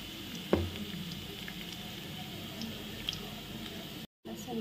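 Garlic sizzling softly in hot oil as a tempering for a village-style mutton curry, a faint, steady crackle with one small knock near the start and a brief silent gap near the end.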